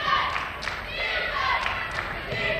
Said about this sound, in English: Crowd getting into it a little bit here.